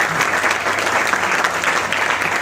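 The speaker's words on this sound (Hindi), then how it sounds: "खड़े होके तालियां कर दें प्लीज" Audience members stand and clap in a dense, continuous applause at an MLM business seminar, loud and even throughout with no talking over it.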